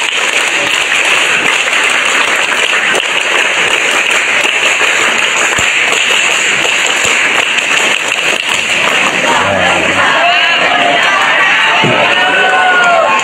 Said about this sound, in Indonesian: Ya, coba sekali lagi tepuk pramuka.